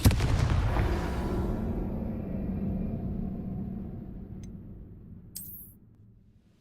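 The Confringo blasting spell from a Hogwarts video game bursts in a heavy, booming explosion whose rumble slowly fades over several seconds, with a brief sharp click and a high ringing tone near the end.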